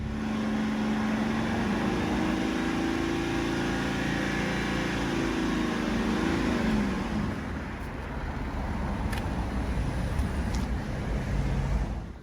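A BMW E92 335d diesel engine is held at high revs during DPF cleaning, a sustained close drone whose pitch wavers. It then eases down to a rougher, lower idle-like rumble.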